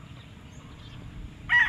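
Gamefowl chickens on a game farm in Tanauan City, Batangas, with a quiet low background before a rooster crow bursts in loudly near the end.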